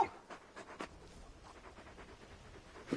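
Large dog companion in the Final Fantasy XVI video game panting softly in quick, rhythmic breaths, faint and close, with no talk over it.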